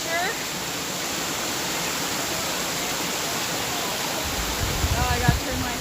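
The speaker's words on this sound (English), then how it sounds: "We're on a little family waterfall adventure." A waterfall pours in a steady, loud, full rush of water that runs the whole time, with faint voices briefly audible beneath it.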